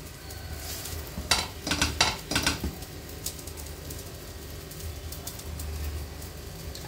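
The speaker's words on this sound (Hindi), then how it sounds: "अंडे को धीरे से टर्न कर दूंगी ऐसे। दूसरे साइड भी इसे मैं अच्छे से पका लूंगी।" An omelet is gently turned in a pan and cooked on its other side, with a cluster of utensil scrapes and clinks followed by a low, steady sizzle.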